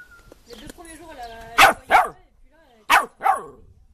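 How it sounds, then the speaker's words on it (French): A dog barks at home in two pairs of loud, close barks, a quick double bark followed after a pause by another, while someone talks before and between them. "parce que là, elle aboie, c'est bien"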